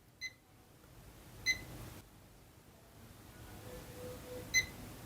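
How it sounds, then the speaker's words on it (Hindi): A UNI-T UT61E+ digital multimeter gives its continuity beep three times, short, thin electronic chirps spaced unevenly over faint background hiss, heard alone without talk. "इसके ऊपर हल्का सा एक बीप आया है"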